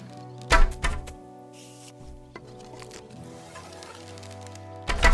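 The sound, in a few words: arrow hitting archery target in Kingdom Come Deliverance 2 video game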